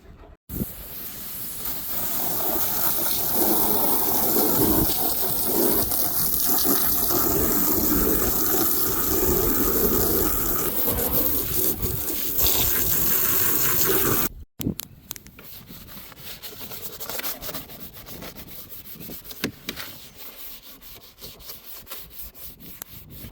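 Garden hose spraying water over a duck cage and bucket, a loud steady hiss and splatter that runs for about fourteen seconds, then stops abruptly, leaving fainter dripping and handling noises.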